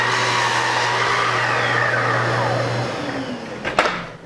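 A powered miter saw that has just cut a piece of wooden molding spins down, a loud steady motor whine fading after about three seconds, followed by a brief clunk near the end.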